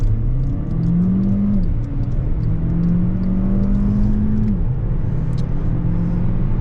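A 2016 Volkswagen CC with a 1.4 TSI engine and DSG gearbox accelerates hard, its engine droning loud and close from inside the cabin, climbing in pitch, dipping at a quick gear change, then climbing again.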